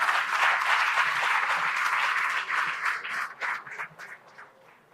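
Audience applause at an ophthalmology conference inauguration ceremony, a dense steady clapping from a large crowd that thins into scattered claps and fades out toward the end.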